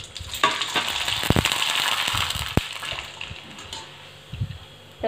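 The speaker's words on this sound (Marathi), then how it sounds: "आपण पापडी तळून घेऊया" Rava papadi frying in hot oil in a kadhai, giving a steady close sizzle broken by sharp crackling pops throughout.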